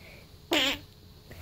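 A single loud, buzzy fart lasting about a quarter second, close up and alone, with faint background hiss before and after.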